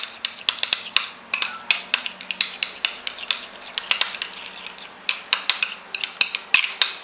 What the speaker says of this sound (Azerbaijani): Yaxşıca qarışdırıram.